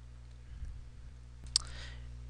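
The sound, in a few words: clicking the Next button in an installer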